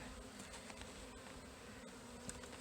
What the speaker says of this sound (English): I have a lot of bees I see in here